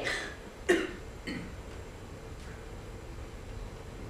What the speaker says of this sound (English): But then the sound of coughing voiced itself.